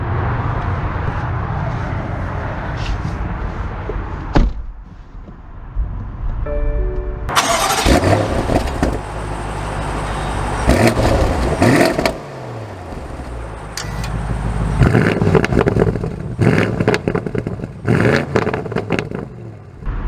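A 2023 BMW M850i convertible fires up after a quiet stretch, its engine catching with a loud burst and then revving in several rising surges that stay close and prominent, with no talking.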